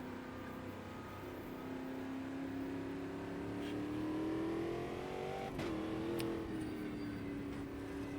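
Race car engines rev in the Automobilista 2 sim racing game, a continuous engine whine that climbs steadily in pitch, drops sharply at a gear change, then settles and holds at a moderate level.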